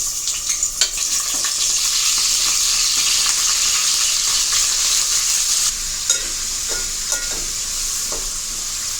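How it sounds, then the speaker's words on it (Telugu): Chicken fries in shallow hot oil in a pan on a stove, giving a loud, continuous close sizzle with crackling pops and stirring scrapes throughout, no voices. "ఆయిల్ వేడెక్కిందండి ఇప్పుడు చికెన్ వేసుకోవాలి"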